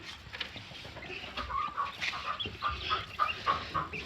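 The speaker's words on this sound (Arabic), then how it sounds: "جار البحث عن فرخ السمان. أين أنت يا فرخ السمان؟" Young quail chicks raised indoors chirp and peep in quick, overlapping bursts, fairly close and moderately loud, with no talking.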